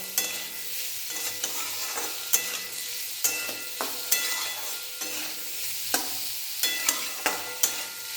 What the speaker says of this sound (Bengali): এটাকে আবারও একটু নাড়াচাড়া করে নেব।